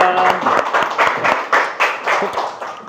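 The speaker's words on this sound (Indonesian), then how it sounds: "Tepuk tangan buat kita semua." Audience applause fills the room after a closing greeting, with dense, steady clapping from many hands throughout, fairly loud and close, and no talking over it.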